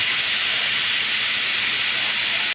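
Pork ears and mask steaming for sisig, heard as a loud, continuous broadband hiss of escaping steam that holds steady and then cuts off abruptly.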